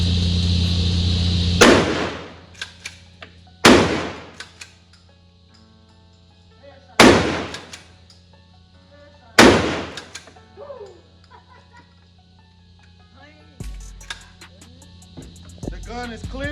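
Four loud, sharp blasts from a GForce Arms 12 gauge pump shotgun at an outdoor gun range, spaced a couple of seconds apart, each with a quick decaying echo, followed by quieter handling clatter.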